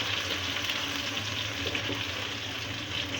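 Chopped onion browning in a pan for dhaba-style dum aloo makes a continuous close sizzle and crackle, steady and fairly loud, with no speech.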